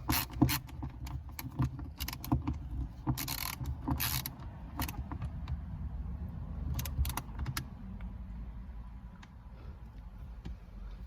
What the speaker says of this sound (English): I'm just going to replace my screw head bit, and we're going to tighten this down.